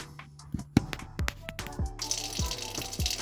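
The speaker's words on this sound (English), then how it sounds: "we'll crack it open and let it drain out" Green coolant drains from a car radiator drain plug through an attached hose, a steady gushing flow that starts midway amid clanks and taps of handling close by.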